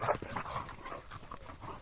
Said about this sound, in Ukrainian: Аккуратно, собака.